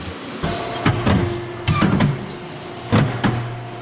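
A paper trimmer clamps and cuts a perfect bound book. Several short motorized whirs and clunks come up close, separated by brief pauses, and no one speaks.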